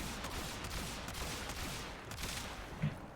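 Rapid burst of roughly eight kitgun shots in the video game Warframe, a dense, loud string of sharp cracks fired in quick succession with no pauses.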